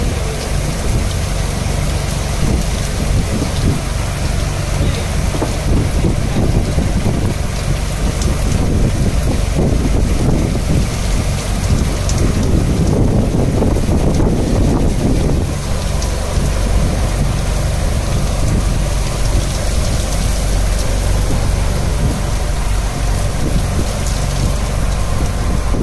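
Heavy rain falls at sea on a fishing outing, a loud, constant hiss and patter mixed with gusty wind buffeting against the microphone.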